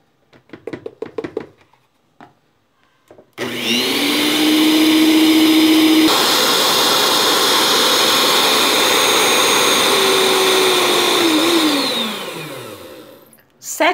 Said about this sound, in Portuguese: E nós vamos bater aqui uma caixinha de chantilly de 200 ml, tá?